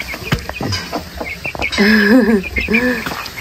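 Chickens clucking close by, a series of short clucks and a longer drawn-out cackle, with insects chirping faintly in the background.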